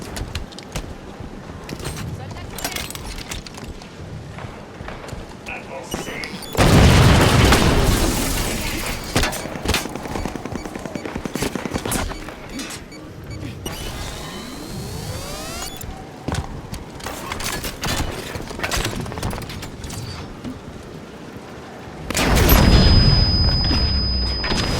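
Gunfire and explosions in the first-person shooter Halo 5: Guardians, with heavy loud bursts of shots and blasts in several waves, separated by quieter stretches of game ambience and crackling impacts.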